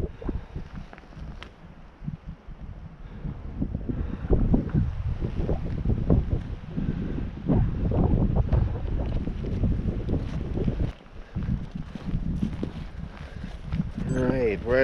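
Strong wind buffets the microphone on an exposed mountain trail on the Brazeau Loop, a steady low roar that swells and dips throughout, with brief talk mixed in.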